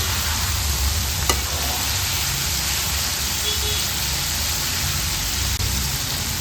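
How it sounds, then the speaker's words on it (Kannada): Chicken wings deep-fry in oil over medium heat, giving a loud, dense, continuous bubbling sizzle close up with no talk. "ಈ ದೊಡ್ಡ ಬಬಲ್ಸ್ ಎಲ್ಲ ಕಡಿಮೆ ಆಗೋವರೆಗೂ ಫ್ರೈ ಮಾಡ್ಕೊಳ್ಬೇಕು"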